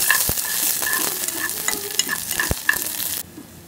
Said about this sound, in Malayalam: ഇനി ഇതിലേക്ക് വറ്റൽമുളക് ആഡ് ചെയ്തിട്ടുണ്ട്.